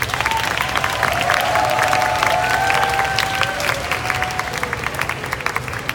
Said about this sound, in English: So if we could give him a big round of applause.